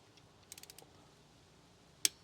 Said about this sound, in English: torquing them for real now